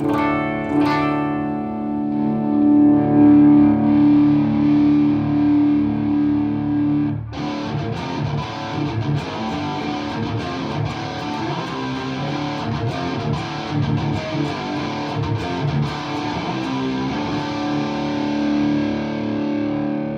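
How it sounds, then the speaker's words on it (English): An electric guitar plays through heavy amp distortion, gain set by amp volume, a sustained chord ringing first, then a thick, gritty strummed passage continuing alone; a guitarist's 2024 rig. "This is just amp volume, like the gain or distortion is controlled by the volume."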